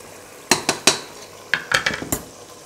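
A spoon scrapes and clinks against a pot while cumin powder is stirred into frying chicken karahi, several sharp metallic knocks in two bursts with a soft sizzle beneath.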